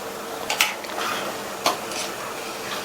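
Tamarind water being stirred into eggplant curry in a pot, with a few sharp clinks of a spoon against the pot and soft scraping, close and fairly quiet.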